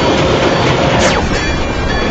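Loud, steady roar of a train rolling along the tracks, with a brief descending squeal partway through.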